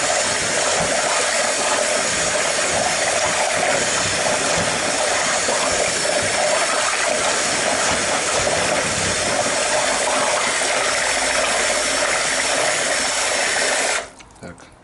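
A concrete mixer churns a batch of concrete for Venetian bricks, a steady grinding hiss with rattling texture that runs continuously and loud, then stops abruptly near the end.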